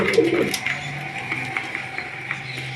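Pigeons give a short, soft coo nearby, followed by quieter murmuring and light rustling in an indoor coop, with no one speaking.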